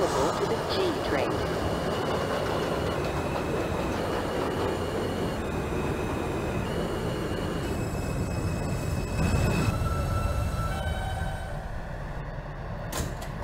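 A simulated R160B Alstom F local subway train hums and rumbles steadily along with a high tonal whine and brief chime-like tones, fading toward the end, while a recorded announcement voice speaks.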